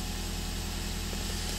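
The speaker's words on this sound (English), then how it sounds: "That's a perfectly running engine." A 2009 Toyota Corolla engine idles smoothly, a low, even, continuous hum with a faint steady hiss, quiet and unchanging from start to finish.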